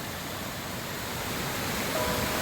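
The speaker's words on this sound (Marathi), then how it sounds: "खरोखरच खूप सुंदर असा धबधबा आहे" A waterfall in the forest near Vikhare Gothane village, Rajapur, produces a steady, dense rush of falling water, broad and unbroken throughout, with no voices over it.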